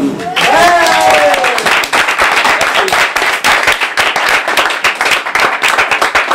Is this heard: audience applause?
yes